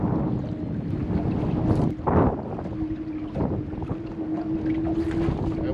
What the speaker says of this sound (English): That wind's starting to pick up.